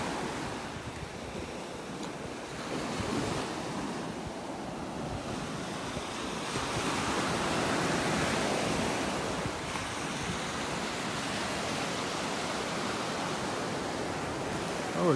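Ocean waves breaking on a beach in North Naples, Florida, a continuous broad surf wash that swells and recedes, with wind buffeting the microphone and no voices.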